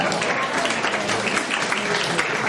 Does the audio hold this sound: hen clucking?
no